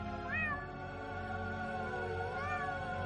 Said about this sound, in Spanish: El gato blanco de Drumgooniol.